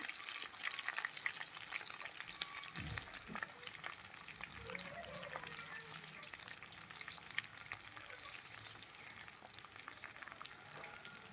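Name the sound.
onions, green chillies and tomatoes frying in a pan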